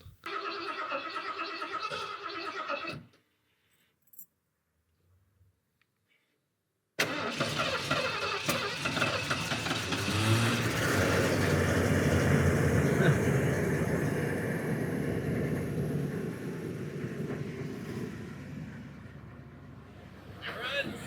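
A 1991 Ford E150 van with its ignition bypassed starts after a quiet pause, then the engine runs and idles steadily at close range, with voices talking over the running engine near the start.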